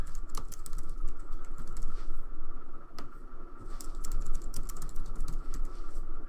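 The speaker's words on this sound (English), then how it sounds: "we'll type in the user and password that we made" Rapid, fairly quiet clatter of a computer keyboard as a username and password are typed in, irregular bursts of keystrokes close to the microphone with no voice.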